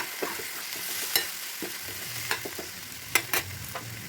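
Masala for mutton kosha sizzles softly in a pan while being stirred, giving a low steady frying hiss with scattered spoon scrapes and taps, close by and fairly quiet.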